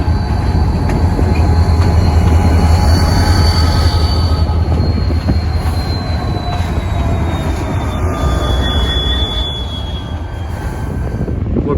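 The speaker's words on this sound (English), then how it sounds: "looks like CN Rail's switch cleaning unit" CN Rail switch cleaning unit rolling through a rail diamond, a loud, continuous rumble of wheels with long, thin squeals drifting overhead and a brief cluster of clicks near the end.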